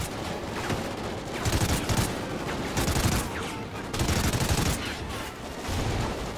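Heavy gunfire in the Call of Duty Ghosts campaign: continuous overlapping automatic bursts and shots, loud and close, with swelling volleys that run throughout and no pauses.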